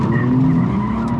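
A car spinning a drifting donut, tires skidding in one loud, continuous squeal with engine roar beneath, close and sustained throughout.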